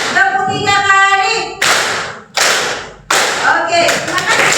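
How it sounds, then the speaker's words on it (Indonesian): Three crisp unison claps from a class of children during an Indonesian language lesson, evenly spaced and loud, with a teacher's voice speaking just before and resuming after. "Tepuk 3 kali."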